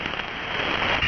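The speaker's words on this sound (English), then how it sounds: "it's raining here" Steady rain falls on a surface as a dense, even hiss, close and constant, with no voices.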